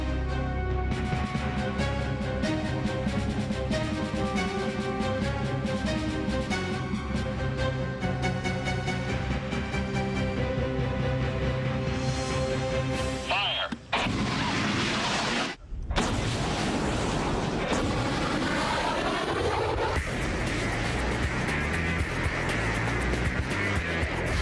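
A rocket launched from a pad by a rocket-building crew roars loudly and steadily with a harsh, rich blast, then breaks into a crackling burst and a sudden gap before more loud rumbling and noise as it climbs away.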